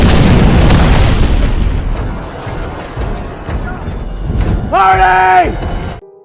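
A landmine explodes in a minefield in a film scene, starting with a loud deep boom that rolls off into a long rumbling decay, followed by a brief tonal swell near the end.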